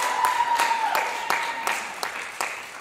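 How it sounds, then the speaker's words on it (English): Scattered applause from a small school audience after a recital, with sparse, distinct claps in an uneven rhythm and a faint sustained tone under the first second. "round of applause, please."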